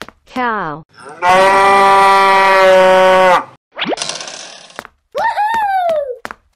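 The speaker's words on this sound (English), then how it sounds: "Cow." A cartoon cow gives a long, loud, steady moo lasting about two seconds, framed by shorter boing-like and squeaky cartoon effects before and after.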